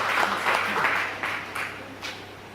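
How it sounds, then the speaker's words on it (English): An audience at the Grenada Music Festival launch gives a short, modest round of applause that swells in a few waves before thinning out. "I think we should all give them a round of applause"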